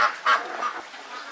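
Farm ducks give a few loud, nasal honking quacks in quick succession, close and alone with no talk, over a brief stretch.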